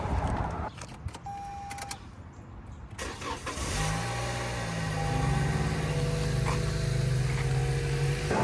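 A used car at a dealership being started: a few clicks and the starter cranking, then the engine catches and settles into a steady, close, loud idle with a constant hum.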